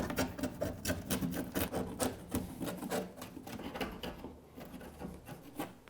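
An old chisel scraping and cutting away old joint compound on a drywall corner, a close rapid series of rasping strokes that thins out toward the end.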